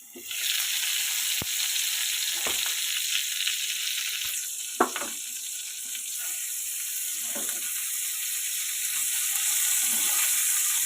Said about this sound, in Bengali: এবার পটলগুলো আমি ভেজে নেব